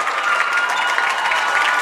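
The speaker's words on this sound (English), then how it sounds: "Two more of the regulars go out and get a big round of applause from the Thompsonville faithful." Thompsonville fans at a boys Class S semi-final basketball game against Cairo give a sustained round of applause, a dense, even clatter of clapping from a crowd.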